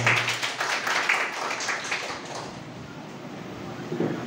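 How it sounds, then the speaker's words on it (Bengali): An office audience at a company program claps together, a dense patter of hands that is loud at first and then fades to scattered claps. "এবার উভয়ের জন্য একটা জোরে সরে করতালি।"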